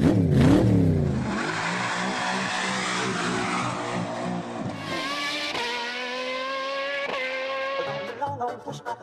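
An elderly woman's motorbike engine revs loudly up close and then speeds away, its pitch climbing through several rising surges before it fades, with music-like tones over the tail end.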